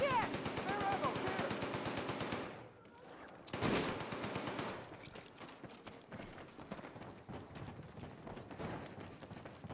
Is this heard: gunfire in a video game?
yes